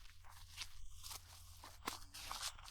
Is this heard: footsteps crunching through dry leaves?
yes